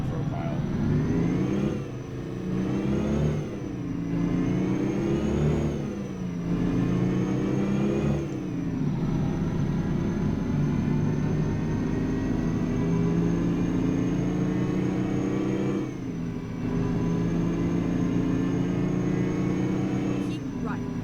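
A loud, steady Detroit Diesel two-stroke engine in a Mack truck in American Truck Simulator drones and rumbles throughout, revving up and down several times with a gritty, buzzing tone and a faint high whine.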